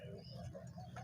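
Pigeons coo softly and steadily at a distance from a rooftop loft, with a low rolling rhythm in a quiet setting.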